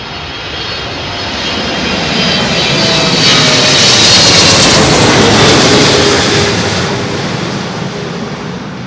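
An airliner on approach to Heathrow runway 27L passes low overhead, a loud roaring jet rumble that swells to a peak midway and then slowly fades as it moves away.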